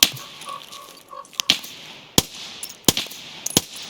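Scattered gunshots in an Escape from Tarkov single-player match: a handful of sharp, separate cracks spaced across a few seconds over a quiet background, some fainter and farther off.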